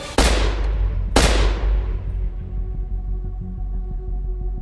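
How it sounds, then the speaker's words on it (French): Two sharp, loud gunshots crack about a second apart, each leaving a long ringing decay, fired inside a gym, followed by a lingering low hum. "2 coups de feu claquent encore très rapprochés."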